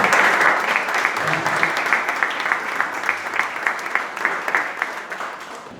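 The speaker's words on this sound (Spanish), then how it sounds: "Fuerte aplauso para Marcela, una vez más." An audience at a presentation in La Rioja gives a warm round of applause for Marcela, a steady burst of many hands clapping that gradually thins out toward the end.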